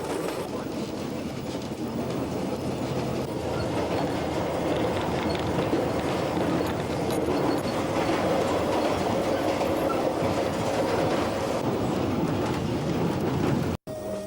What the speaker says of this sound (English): Simply listening to music becomes impossible with the din the wheels make in their effort to remain on the warped, uneven tracks.